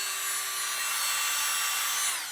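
Battery-powered electronic air blower from Blowerbaby, rated for roughly 70 km/h of airflow and meant for cleaning keyboards, runs alone with a steady high-pitched whine and a broad airy rush, holding constant, then winding down at the end.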